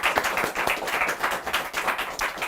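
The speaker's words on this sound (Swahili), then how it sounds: "Makofi tafadhali" A studio audience at a television talk show claps in a dense, continuous round of applause, loud and close, with no speech over it.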